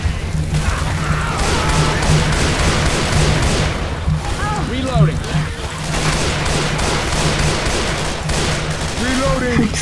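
Rapid gunfire in the zombie shooter Left 4 Dead 2, a dense continuous fusillade of shots with crashes and booms, loud throughout with voices talking over it.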